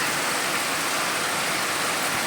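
Heavy rain falls outdoors in a dense, continuous hiss that is loud and steady, with no other sounds standing out.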